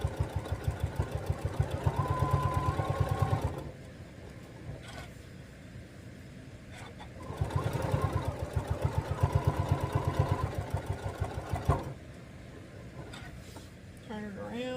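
A sewing machine stitches a fabric table runner in two long runs of steady, fast mechanical whirring, with a quieter pause between them and a brief rustle at the end.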